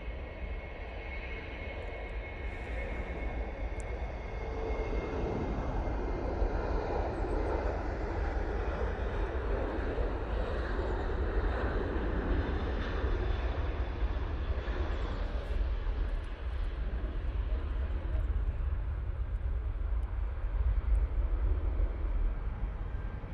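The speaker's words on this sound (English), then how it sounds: "We got the Ryanair 73 on the roll." A Ryanair Boeing 737 takes off at Manchester Airport, heard as a broad, sustained jet roar from a distance that swells gradually and holds steady throughout, with no talking.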